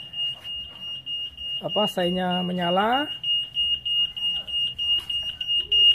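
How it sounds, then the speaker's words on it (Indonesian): A Yamaha NMAX scooter's keyless alarm sounds a steady high-pitched electronic tone continuously, with a brief burst of rising chirps in the middle and a voice speaking over it. "Nah ini alarm akan bunyi, ya."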